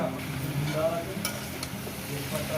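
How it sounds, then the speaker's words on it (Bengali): Malabar spinach and pumpkin chorchori being stirred in a pan, a soft continuous sizzle under repeated scraping strokes of a spatula, close and fairly even. "চাপা দেওয়ার আগে একটু নেড়ে দেবেন চচ্চড়িটা"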